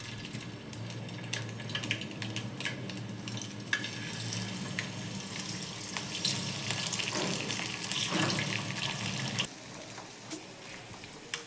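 Eggs frying in hot oil spread across a pan, giving a steady crackling sizzle with scattered pops and spits throughout and a brief swell of louder bubbling near the end.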